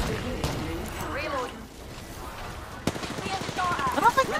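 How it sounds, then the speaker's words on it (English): Rapid gunfire from an online multiplayer shooter game, bursts of fast shots that grow denser toward the end, heard under a player's voice talking over them. "Who's shooting at me now?"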